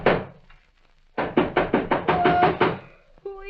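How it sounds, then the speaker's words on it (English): Someone pounds on a door at night: a fast series of about eight heavy, close knocks, a brief pause, then another thud, with a short sound before the knocking. "It was somebody pounding on the door."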